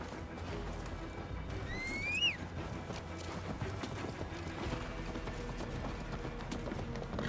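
Horse hooves clop in Assassin's Creed Valhalla amid a dense, noisy game soundscape, with a brief whinny-like cry rising near the start and a bump of louder impact midway.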